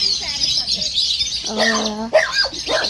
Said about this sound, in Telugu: చిలుకలు చూడండి ఎంత మంచిగా సౌండ్ చేస్తున్నాయో